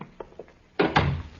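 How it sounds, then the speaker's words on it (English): An indoor door is pushed shut with a solid thunk, followed by a second knock-like bump, preceded by a few faint soft sounds of movement. "Close the door, Paul."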